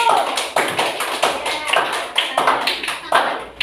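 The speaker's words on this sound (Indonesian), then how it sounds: "tepuk tangan untuk kelompok satu" A classroom full of students claps in unison for the first presenting group, the sharp claps falling in a rhythmic, evenly spaced pattern of bursts, with some voices mixed in.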